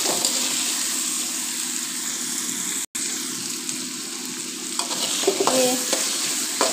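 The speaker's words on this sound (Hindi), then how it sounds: "तकरीबन 1 से 2 मिनट जो है हम शिमला मिर्च को इसमें पकाएंगे" Capsicum cooking in a pan while making chicken lasagna, giving a steady close sizzle with stirring scrapes and a brief dropout near the middle, no voices.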